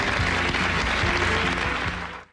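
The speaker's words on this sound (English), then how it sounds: "Give that man a round of applause." Television studio audience applauding during a talk-show interview, a dense, steady burst of clapping that fades out quickly at the end.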